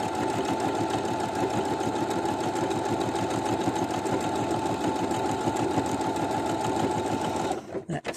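A new sewing machine stitches a smocking stitch in a fast, even mechanical whir of rapid needle strokes, running steadily up close before stopping abruptly near the end.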